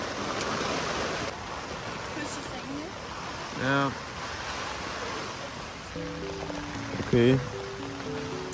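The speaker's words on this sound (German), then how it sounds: "that little rain turned into a waterfall." Heavy rain pours steadily on a tent at a Fraser Island campsite, a dense continuous hiss under brief bits of nearby talk.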